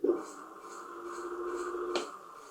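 A 2000W Globalkeep Solei X8 electric dirt bike motor runs in gear 1, a faint steady electric whine held for a couple of seconds after a short click at the start.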